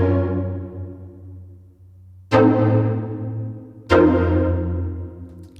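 Dry synth chords from Arturia Analog Lab V, played without effects: a held chord followed by two sharp new chord strikes, each with a bright attack and steady decay, clean and close.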